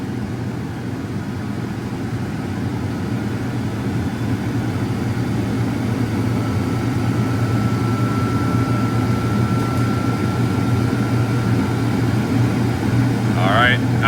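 A commercial boiler's burner and blower fire up during preventive maintenance, making a deep, continuous rumbling roar with a low hum that grows slightly louder as the firing rate climbs.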